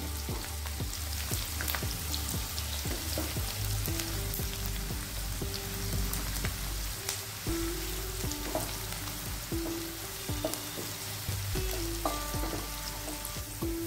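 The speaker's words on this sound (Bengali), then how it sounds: "এটা আমি বেরেস্তার জন্য কুচি করে নিয়েছি পেঁয়াজটা। এটা আগে ভেজে নেব।" Chopped onions fry in oil for beresta, giving a steady, close sizzle with light stirring scrapes throughout and no voices.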